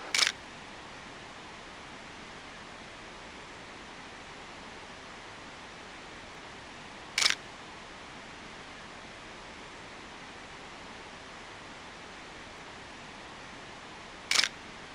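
Three sharp, isolated shutter clicks from a film camera loaded with Delta 400 ring out about seven seconds apart near a creek in a steep little canyon, each brief and distinct over a steady background of rushing water.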